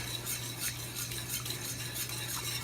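Whisk stirring a flour mixture vigorously in a cup, a fast continuous scraping and clinking rhythm, close and fairly loud with a faint hum underneath.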